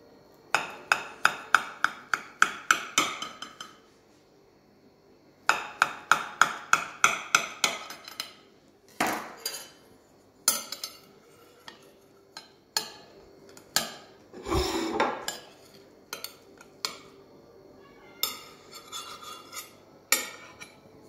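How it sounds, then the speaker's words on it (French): A cooked Spanish potato tortilla being cut on a plate, with scraping and tapping of cutlery against the dish in quick rhythmic bursts, followed by scattered separate clinks and scrapes, close and clear with no talking. "On va pouvoir couper un morceau."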